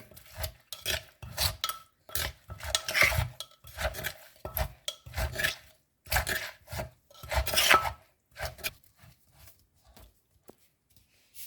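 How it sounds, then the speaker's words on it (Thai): Papaya salad with pickled crab being pounded gently in a mortar, a steady rhythm of dull thuds and scraping knocks with short pauses between strokes, close and fairly quiet, the beating thinning out toward the end. "ค่อยๆตำนะ เดี๋ยวปูเละ"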